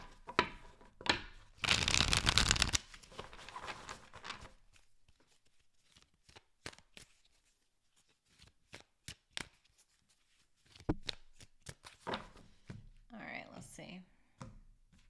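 Tarot cards are shuffled in short crisp riffles and taps, with one dense burst of fluttering early on and scattered flicks later, close and quiet, alongside soft whispering.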